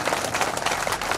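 Dense, steady applause from an audience at a Kamleshwar Mahadev prana pratishtha ceremony in Rajasthan, many hands clapping together loudly and continuously throughout, with no break in the sound.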